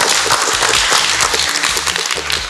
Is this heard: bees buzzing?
no